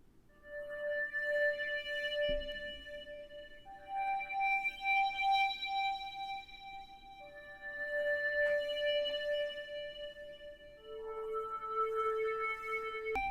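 A soft, airy Alchemy synth pad (Flutterby preset) in GarageBand holding sustained tones that shift slowly between chords, gentle swells rising and fading with a faint shimmer on top.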